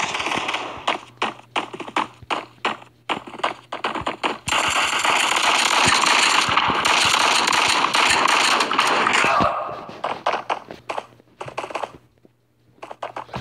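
Rapid gunfire in the shooter game Bullet Force: scattered loud shots give way to a dense, sustained burst of automatic fire lasting several seconds, then a few isolated shots, with a low steady hum underneath.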